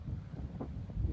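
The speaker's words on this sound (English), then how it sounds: "Very windy as well, but not cold like the last time I was up here." Wind blowing across a microphone on a muddy countryside walking path, a steady low buffeting rumble that swells and gusts throughout, with no talking.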